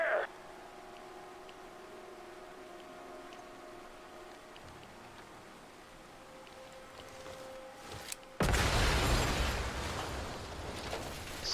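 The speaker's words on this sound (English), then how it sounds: "Explosion noise." A sudden loud explosion bursts in after a stretch of quiet ambient tones, cutting in sharply and roaring on with a dense, rumbling blast that fills the rest of the moment.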